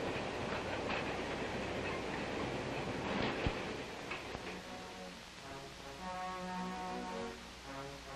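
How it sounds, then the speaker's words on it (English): A 1950s mail train pulls into a station, with rolling rumble and rail clatter giving way to a sustained whistle-like tone and steady mechanical hum as it slows, heard alone at moderate distance. "The train pulled into the station on time."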